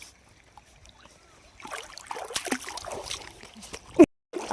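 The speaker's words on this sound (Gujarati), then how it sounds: "આપણે ચાલતા ચાલતા જાય છે પાણીમાં" Someone wades barefoot through the shallow water of a river. A quiet stretch gives way to sloshing, splashing steps, with a sharp knock just before the end.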